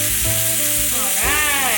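A steak sizzles loudly and steadily in a hot pan as it is flipped, the close frying hiss swelling briefly at the turn, with no talk over it.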